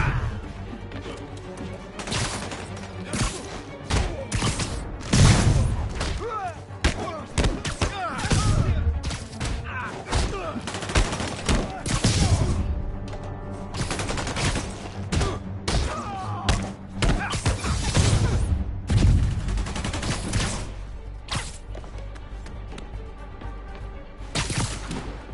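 Combat in a Spider-Man video game on PS5, with repeated heavy thuds, crashes and scattered gunshots from armed enemies in an irregular, busy stream of impacts over the game soundtrack.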